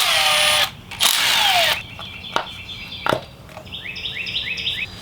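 Coil pack bolts on a Chevrolet Cruze 1.4 being loosened with a T30 Torx driver: a loud close whirring power-tool burst, then short clicks and knocks, followed by quick rising ratcheting chirps.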